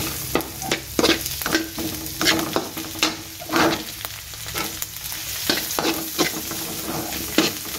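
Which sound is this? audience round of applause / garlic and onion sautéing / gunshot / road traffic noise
garlic and onion sautéing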